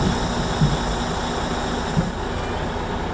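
Diesel engine of a semi-truck tractor pulling away from its trailer in first gear, a steady loud low rumble close by, with a couple of faint knocks and no talk.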